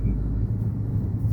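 A car drives past alongside on the Tirupati–Tirumala ghat road in the early morning. A steady low rumble of engine and road noise fills the clip, close and continuous, with no clear rise or fade.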